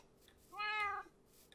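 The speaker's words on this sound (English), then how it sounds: "I just want these kitty cats." A single clear meow from a cat in the video game Minecraft rises and falls over about half a second, moderately loud against a quiet background.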